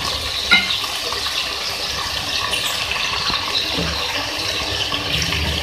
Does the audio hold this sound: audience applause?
no